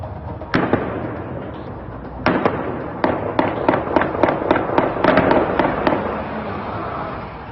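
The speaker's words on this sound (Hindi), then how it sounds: "आग और धुएं के गुबार के बीच रह रहकर सुनाई देती गोलियों की आवाज" Gunshots amid fire and smoke at Tehran's Evin prison, a string of sharp cracks, first isolated, then a rapid irregular burst of a dozen or so reports, loud and fairly close over a rumbling background.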